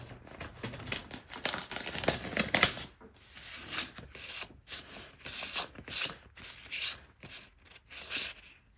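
Paper-backed gym sticker for a Hobonichi Cousin planner being peeled and handled up close, with soft crinkling and quick rustling bursts that come and go over several seconds and no talking.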